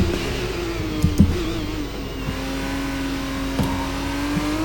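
An F2 race car in the video game F1 23 at the Jeddah circuit holds a loud, sustained engine whine whose pitch rises and falls, with brief clicks of gear changes and no talking.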